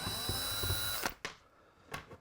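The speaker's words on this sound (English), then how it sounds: "we have a whole bunch of screws to take off here" A power drill driver whirs steadily while backing screws out of a Black & Decker string trimmer housing, then cuts off into a few short, close bursts.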